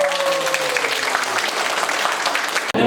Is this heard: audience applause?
yes